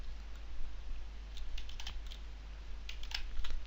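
Quick taps on a computer keyboard as a user ID and password are entered into an SAP remote system setup, faint, light keystrokes in short bursts over a steady low hum, with no talking.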